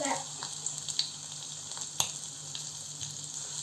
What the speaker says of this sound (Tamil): இப்போ எண்ணெய் காய்ஞ்சிருச்சு. இதில் நம்ம சிக்கனை போட்டுக்கலாம்.